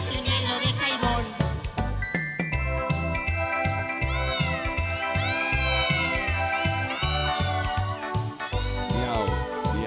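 A clown's voice imitates a cat meowing in a children's show, with repeated sung meows riding over a loud, steady musical accompaniment throughout.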